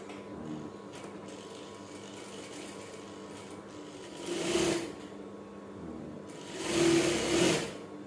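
Sewing machine stitching the hem of a batik shirt, with two short motor-driven bursts of whirring stitches separated by a low background hum and quiet handling noises.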